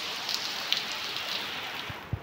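Heavy rain falling outside a home, a steady soft hiss of rainfall with a few scattered drips, quiet and continuous with no talking.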